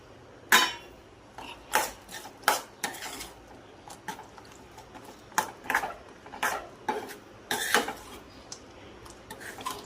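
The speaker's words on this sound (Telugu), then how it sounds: "త్రీ స్పూన్స్ కారము ఒక స్పూను సాల్ట్ వేసి బాగా కలిపేస్తాను ఇప్పుడు వేపుకున్న ముక్కలు కూడా ఇందులోకి వేసేస్తాను" Fried chicken pieces being tossed with chili powder and salt for a coriander chicken pickle, a spoon scraping and clinking against a metal bowl in irregular bursts, close up with no talking.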